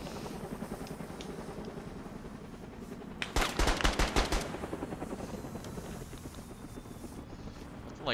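A vehicle engine drones throughout in the military shooter game Squad, while a short, loud burst of rapid gunfire aimed at the departing ride cuts in briefly before the steady motor sound carries on.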